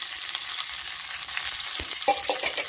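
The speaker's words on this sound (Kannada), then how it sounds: "ಒಂತೆ ಎಣ್ಣೆ ಪಾಡ್ದು ಒಂತೆ ಸಾಸಿಮೆ ಪಾಡ್ದು ಒಂತೆ ಉರ್ದ ಬೇಳೆ ಪಾಡ್ದು" Mustard seeds and urad dal sizzle in hot oil for a sambar tempering, a dense close crackle with a few sharp pops and clinks of the pan near the end.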